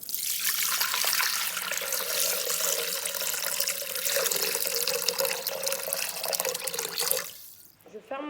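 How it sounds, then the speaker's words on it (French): Water, 1000 g in all, pours steadily into a Thermomix bowl with a continuous splashing rush for about seven seconds, then stops abruptly. "Je mets mes 1000 g d'eau."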